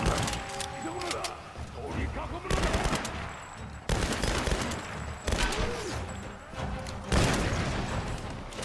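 Rapid automatic gunfire from the Tomb Raider video game, loud sustained bursts with brief gaps, several long volleys back to back with heavy booming impacts underneath.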